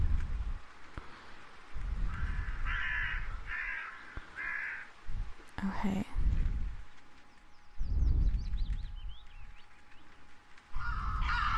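Crows caw repeatedly in rhythmic bursts of three or four calls in the video game The Last Door, fairly loud, with a brief spoken word partway through.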